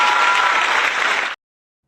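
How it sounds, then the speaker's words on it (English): Dense crowd applause plays on a talk show for a guest, a burst of steady clapping that cuts off abruptly into silence after about a second. "Mad New Yorker will have a round of applause."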